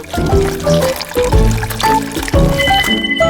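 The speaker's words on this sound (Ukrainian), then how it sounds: "Так, заливаємо." Liquid is poured into a container in a loud, close, continuous splashing stream lasting a few seconds, with some clinking but no talking.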